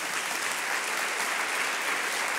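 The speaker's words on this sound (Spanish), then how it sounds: "Vamos a darle un fuerte aplauso al Señor" Dense, steady applause from a large church congregation, a continuous wash of clapping that holds at the same level throughout.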